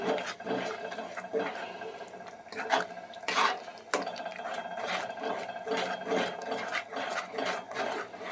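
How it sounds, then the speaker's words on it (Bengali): Spinach is stirred and mixed in a pan, making soft, irregular rubbing and scraping sounds from the spoon with faint moist rustling, close and fairly quiet. "আগে নেড়ে নিয়ে মিশিয়ে নিই মিক্স করে নিই"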